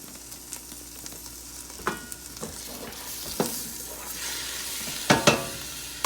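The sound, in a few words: lamb braise pan sizzling back on the heat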